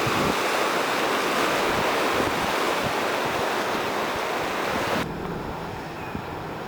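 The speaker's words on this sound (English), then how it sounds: "the surf, when it gets going, comes in and goes over the rocks and creates enormous waves" Ocean surf rolling in and breaking over coastal rocks, heard as a loud, continuous roar buffeted by heavy wind noise on the microphone; the wind drops and the sound grows duller near the end.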